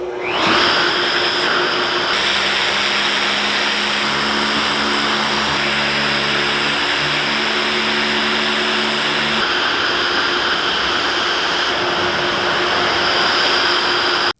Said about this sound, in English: I do the majority of the sanding with the Festool duplex